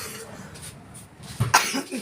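A single short cough near the end, close and fairly loud, after a quiet stretch.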